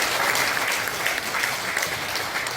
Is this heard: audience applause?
yes